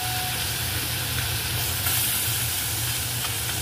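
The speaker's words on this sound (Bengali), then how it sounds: "বন্ধুরা এক এক করে মাছগুলো ভেজে নেওয়া হচ্ছে" Small fish frying in hot oil in a wok: a loud, continuous hissing sizzle that holds steady the whole time with no talking.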